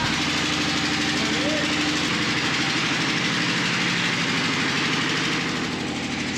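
An engine-driven generator at an abandoned fuel station runs close by with a steady, throbbing idle that holds level throughout.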